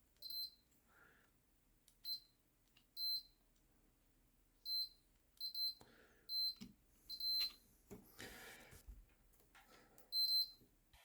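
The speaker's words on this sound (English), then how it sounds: "Having every one of those pins beep when I touch them together is not a good sign" Multimeter in continuity mode beeping as its probes touch connector pins, a series of short, fairly quiet electronic tones in irregular bursts with handling clicks between them.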